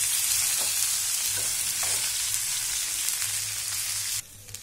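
Okra (bhindi) frying in a pan with a loud, steady hiss and a few soft stirring scrapes; the sizzle drops sharply near the end.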